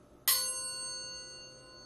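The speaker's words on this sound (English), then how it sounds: "It sounds like a Tibetan gong." A thrift-store metal chalice is struck once and rings like a Tibetan gong, with a sharp strike followed by a clear, sustained metallic tone that slowly fades in a quiet room.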